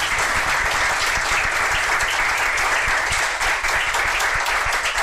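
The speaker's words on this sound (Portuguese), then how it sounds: "eu queria pedir uma salva de palmas ao nosso co-irmão de São Paulo" Audience at a medical session on coronary angioplasty giving a sustained round of applause, dense and steady clapping from many hands throughout with no speech.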